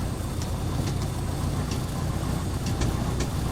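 A rough, fluctuating piston engine of the A2A Cessna in Flight Simulator X drones steadily at moderate level, with faint periodic ticks over the hum.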